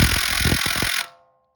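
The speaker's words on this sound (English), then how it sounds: "I've borrowed my friend's little Snap-on Tools little ratchet driver" Snap-on cordless ratchet driver with a nearly flat battery loosening a brake bolt on a BMW X3/X4 front brake job: a loud, dense whirring rattle for about a second, then it cuts off with a short fading ring.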